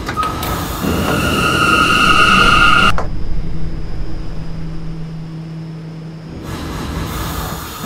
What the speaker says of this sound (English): is a Brooklyn-bound C local train